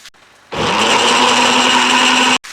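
A blender whirs up oregano, pepper and salt for barbacoa, starting abruptly and running as a loud, steady high-pitched whine for about two seconds before cutting off sharply.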